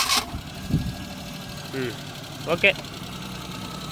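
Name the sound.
Maruti 800 car engine starting and idling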